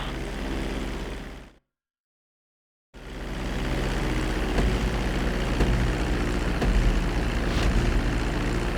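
A propeller plane in Grand Theft Auto V drones steadily on its takeoff run, the engine cutting out briefly and then returning at full, loud, even power.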